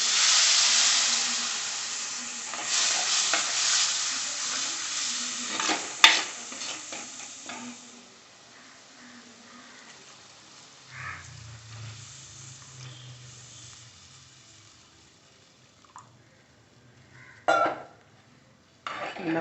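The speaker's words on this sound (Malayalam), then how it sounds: "ഇനി നമുക്ക് രണ്ടാം പാൽ ചേർക്കാം." Second coconut milk being poured and stirred into a simmering fish curry with chili powder, giving loud sizzling and stirring at first that fades to a soft bubbling simmer, with a few utensil clinks near the end.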